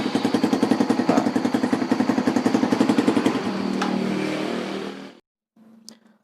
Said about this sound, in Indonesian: maka dinamo itu akan terus berputar selama 1-2 detik agar mesin itu nyala.